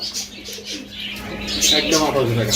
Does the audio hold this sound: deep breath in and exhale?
no